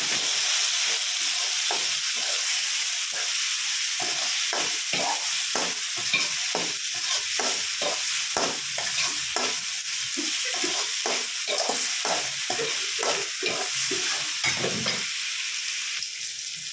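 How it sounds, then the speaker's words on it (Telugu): Chopped tomatoes fry in a pan over a low gas flame for tomato rice, a steady sizzle broken by frequent scraping stirs of a spoon against the pan. "ఒకసారి టమాటాలు అయితే కలుపుకుందాం."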